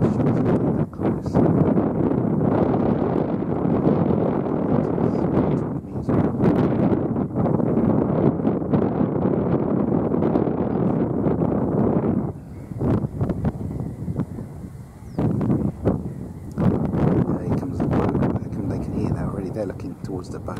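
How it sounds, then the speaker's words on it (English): A boat engine runs steadily on a fen in Cambridgeshire, a continuous broadband drone with wind buffeting the microphone, dipping briefly midway before returning, while someone talks over it. "boat noises really terrified them"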